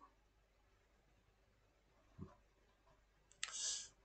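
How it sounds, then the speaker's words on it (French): A computer mouse gives a faint single click in a quiet room, followed by a short brighter clicking burst. "Et puis, on va cliquer sur suivant."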